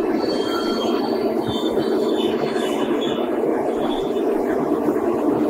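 Sampark Kranti Express running from Sealdah to Delhi rolls into Bardhaman station, its first stop: a steady, loud, close rumble of wheels and carriages with thin high-pitched squeals drifting over it throughout, and no voices.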